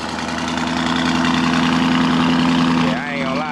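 A modified Lamborghini engine of roughly 750 to 800 horsepower idles loud and close after a cold start, a steady deep throb that dips slightly near the end.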